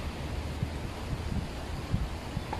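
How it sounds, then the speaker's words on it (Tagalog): Gusty wind buffeting close to the microphone, a low rumbling roar with soft thumps, continuous and fairly faint, no voices. "Oh, lakas ng hangin."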